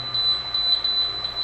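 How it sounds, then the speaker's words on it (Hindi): Emergency stop alarm on a DSE 7320 generator controller module, a steady high-pitched electronic tone sounding continuously, fairly loud and close. "इसकी मैं इमरजेंसी की वायर भी लगा देता हूँ ताकि ये भी अलार्म ख़त्म हो जाए"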